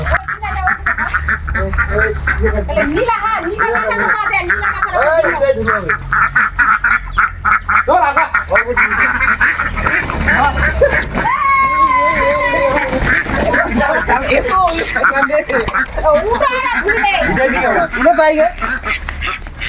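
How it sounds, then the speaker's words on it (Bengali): Ducks quack loudly and repeatedly at close range in a rural setting, a busy overlapping chorus of harsh calls that continues throughout with people talking over it. "আমরা কিন্তু একটা হাঁস ধরে ফেলে, বাকিরা কিন্তু চলে গেল"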